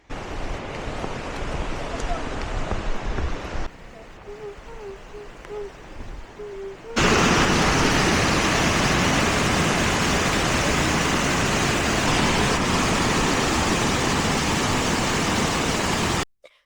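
Waterfalls at Plitvice Lakes, a loud, steady broadband roar of falling water heard up close, briefly dropping to a quieter rush with faint bird calls before the full roar returns.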